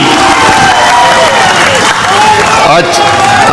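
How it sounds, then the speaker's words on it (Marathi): Crowd at a Shiv Sena district rally in Satara claps and cheers loudly, a dense wash of applause with crowd noise, while an amplified voice speaks over it throughout. "हात वर करायचा, जोरदार टाळी."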